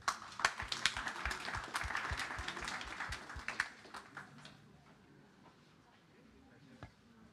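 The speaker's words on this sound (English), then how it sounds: "Let's give them a big round of applause." A conference audience claps to welcome two speakers onto a stage: a burst of sharp, close claps that thins out and fades to a few scattered claps, with faint voices in the room.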